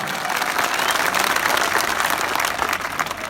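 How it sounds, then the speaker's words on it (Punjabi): A crowd at a Bhagwant Mann political rally in the Punjab village of Dhillwan Kalan claps continuously and loudly, a dense sustained burst of applause. "ਤਾੜੀਆਂ ਮਾਰ ਕੇ ਸਾਡੀ ਟੀਮ ਨੂੰ ਹੌਸਲਾ ਮਿਲਦਾ"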